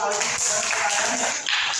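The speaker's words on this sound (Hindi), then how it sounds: "देखिए इनके लिए भी तालियां" Students in a ninth-standard Hindi class clap for classmates, a brief burst of close, fairly loud clapping mixed with voices that dips briefly near the end and then resumes.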